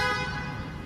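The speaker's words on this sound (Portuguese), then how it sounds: "A buzina, ó." A short, single car horn honk from a 2024 BMW i5 M60 sounds briefly and close by.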